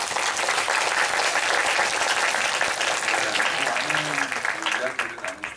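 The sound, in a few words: audience applause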